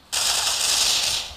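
Sustained automatic gunfire in the Critical Ops mobile shooter game, a loud continuous burst of rapid shots lasting just over a second with no talk.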